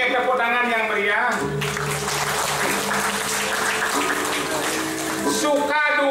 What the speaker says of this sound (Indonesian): Ingat tepuk tangan yang meriah.